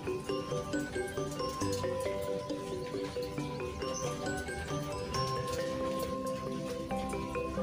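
Steady rain falling during woodcarving of a wayang golek puppet, a continuous dense patter with scattered drip-like ticks running the whole length at low level, with no talk over it.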